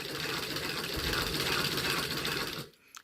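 An antique Singer sewing machine runs in a fast, even mechanical whir with rapid stitching clatter for about two and a half seconds, then stops, leaving a quiet room.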